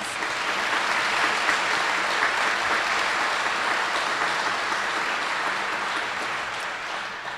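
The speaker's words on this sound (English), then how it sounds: "Let's give them a round of applause." A crowd at an announcement event claps in sustained, even applause lasting several seconds, dense and fairly loud with no speech over it.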